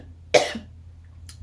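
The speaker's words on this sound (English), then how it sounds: "I'm going to be coughing from time to" A single sharp cough bursts out close by, followed by a short quieter exhale and a faint second rasp.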